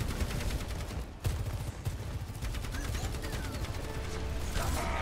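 Two automated turrets trade sustained fire in an Overwatch match, a dense, continuous rattle of shots layered with mechanical clanking and game effects, loud and unbroken throughout.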